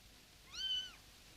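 A small cat gives a single clear meow, close and alone against quiet room tone.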